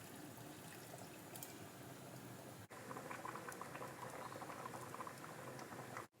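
Fenugreek porridge with hot water bubbles in a pot, a continuous soft close patter of popping bubbles with a brief dropout midway, no voices.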